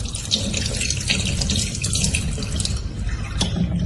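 Water runs steadily from a tap into a sink for handwashing, a close, continuous splashing stream with no voices.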